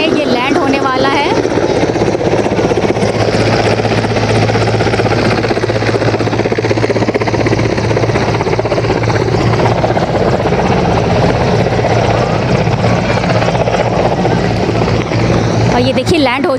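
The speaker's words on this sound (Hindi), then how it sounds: "यहाँ पे बहुत नज़दीक से हेलीकॉप्टर जा रहा है" A helicopter thunders close by as it comes in to land at Swarved Mahamandir Dham, Varanasi, its rotor beating loudly and steadily throughout, with people's voices faintly underneath.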